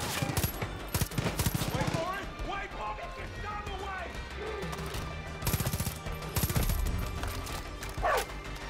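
Video game gunfire in Far Cry 5: scattered bursts of shots near the start, then again midway, with in-game sounds and distant action between, under a loud busy game mix.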